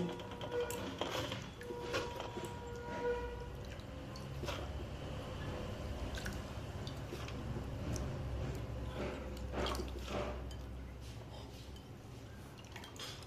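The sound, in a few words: soaked potatoes being drained in a strainer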